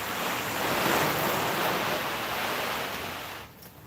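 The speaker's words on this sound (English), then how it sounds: "Turns out if you spray water on the roof, it'll cool it off right quick." Water sprayed onto the roof of an Impala gives a steady, loud broadband hiss for several seconds, then tapers off near the end with no voices.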